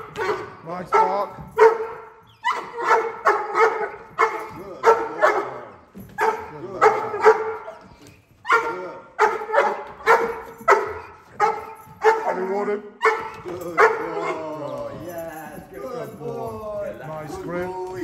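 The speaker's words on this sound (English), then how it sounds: "Nice bark." A six-month-old Slovakian mastiff puppy barks almost nonstop, with loud, close, rapid barks coming in repeated bursts. Near the end they break into higher yips and whines.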